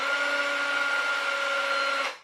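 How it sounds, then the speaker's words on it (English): A steady high-pitched whine of a cordless drill motor with a run-down battery running for about two seconds, then winding down at the end. "Battery's running down in the drill"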